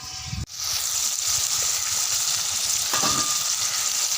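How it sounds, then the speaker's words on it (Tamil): Small and large onions, green chilies and tomatoes sautéing in a clay pot over a wood fire, giving a loud continuous sizzle after a brief opening clatter, with a faint stirring scrape partway through. "சூப்பராக மண் சட்டில் நல்லா எல்லாமே நல்லா சூப்பராக வதங்கி வரட்டுங்க."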